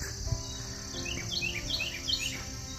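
A single bird sings on a morning outdoors, giving a run of rapid high chirps in the middle of the stretch, fairly faint against a constant background hiss and no talking.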